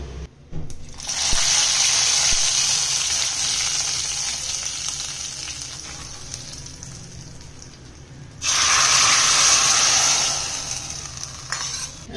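Hot oil tempering of mustard seeds and curry leaves poured into a potato, peas and brinjal curry, giving a loud, steady sizzling hiss that swells twice, each burst fading gradually.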